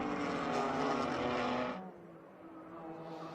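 GT4 race cars, including a BMW, roar past along a circuit straightaway in Canada, a loud dense engine blast for nearly two seconds that then drops away to a quieter, more distant engine drone.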